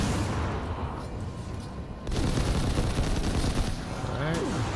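Rapid weapon fire crackles in the Destiny 2 video game, a dense, continuous volley of shots over ambient game noise, growing louder halfway through, with no talk over it.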